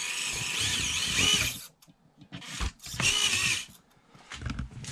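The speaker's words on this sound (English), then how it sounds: "Nice slow crawling motor." An Orlandoo Hunter 1/32 scale RC Toyota Tundra crawler motor whirs in short bursts, a thin buzzing gearbox whine that starts and stops with brief pauses and small clicks between throttle pulses.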